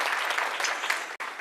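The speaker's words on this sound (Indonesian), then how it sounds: "Beri tepuk tangan dulu buat Tuhan Yesus." A church congregation at a worship service bursts into dense, sustained applause that stays steady before a sharp cut and a brief resumption.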